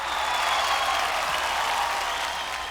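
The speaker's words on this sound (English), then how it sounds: "such a huge crowd." A huge crowd at an RRR film event claps steadily, a dense and sustained wash of applause that fills the space without any voice rising above it.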